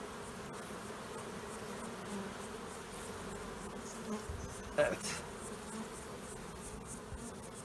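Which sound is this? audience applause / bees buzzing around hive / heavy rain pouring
bees buzzing around hive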